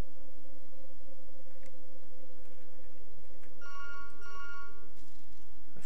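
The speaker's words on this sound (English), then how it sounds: "The phone's ringing." Telephone ringing in the video game To the Moon, a soft electronic ring with a couple of bright tonal bursts partway through, heard over a low steady game soundtrack hum, with no talk.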